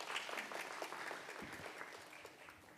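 A conference audience at a Korean corporate roundtable on digital order applauds to welcome a government official to the podium, a steady, dense wash of clapping from a room of people lasting throughout.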